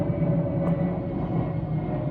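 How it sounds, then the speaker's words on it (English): An airplane passes overhead as a faint, steady low drone with a distant engine hum, heard alone in the background without talk. "Ooh, an airplane."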